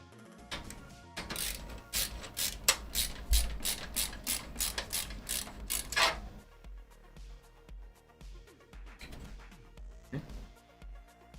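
Tightening down a bracket during a PC build with an RTX 3060 and Ryzen 5 5600G: a rapid run of loud ratcheting clicks, close up, then slower, fainter intermittent clicks and handling noise.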